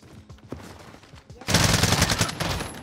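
Burst-fire gunshots from a rifle in the video game Modern Warfare: quieter scattered shots give way to a loud, dense, continuous burst of gunfire over the final second and a half.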